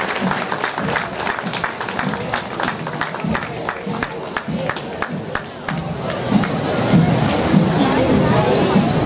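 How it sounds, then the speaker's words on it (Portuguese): Crowd applause for a Brazilian Army platoon at a September 7 Independence Day parade in São Domingos, Maranhão, with steady clapping that swells near the end, mixed with crowd chatter. "Salva de palmas, pelotão do Exército Brasileiro."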